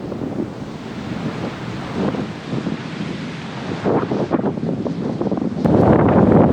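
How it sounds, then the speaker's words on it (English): Strong, cold wind on the Australian coast roars steadily into the microphone, mixed with the wash of surf, and swells louder toward the end. No one speaks. "that wind is not nice. It's got a real bite to it."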